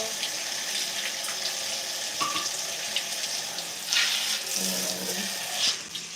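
A tap runs steadily into a sink during a hair rinse at home, with a continuous close rush of water and small splashes shifting in pitch as the stream hits hair and hands.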